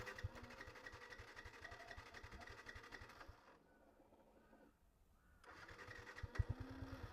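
A Yamaha FZS v2 motorcycle with a fuel-injected engine runs close by with a fast, rapid mechanical chatter. It drops to a quieter idle in the middle, then picks up again, with no talking over it.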